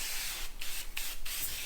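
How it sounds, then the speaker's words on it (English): Three short hissing bursts of a spray bottle misting water over a fresh silicone caulk bead, close and fairly quiet over steady background hiss. "take the spray away, spray it real good"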